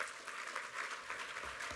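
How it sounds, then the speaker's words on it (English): Applause from a conference audience after a keynote address at a carbon conference, a steady wash of many hands clapping at moderate distance, fairly faint with no clear voices. "A big round of applause, please, ladies and gentlemen."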